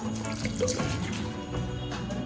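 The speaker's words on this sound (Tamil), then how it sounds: "அடுப்பு ஆஃப் பண்ணிட்டு பச்சை தண்ணி ஊற்றிக்கோங்க." Cold water pours steadily over drained macaroni in a kitchen, a continuous close splashing and trickling wash that runs unbroken throughout.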